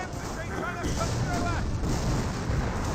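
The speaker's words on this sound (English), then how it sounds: "And Incendiary Mortar does come down." An incendiary mortar strike lands in the Company of Heroes battle game, its low rumbling booms and crackling fire running beneath a commentator who keeps talking over it.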